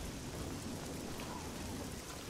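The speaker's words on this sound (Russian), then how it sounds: "Блин, дождь этот заколебал уже," Steady rain falls in the video game Oblivion, a soft, even hiss with a faint low rumble, continuous throughout.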